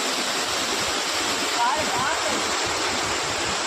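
Vibhuti waterfall heard from the edge where the water drops, a loud, unbroken roar of rushing water with faint voices beneath it.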